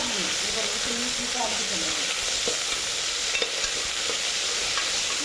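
Chopped green chillies being sautéed in a pan for a cluster bean gravy, giving a steady sizzling, frying hiss close by with a few soft stirring scrapes and taps throughout.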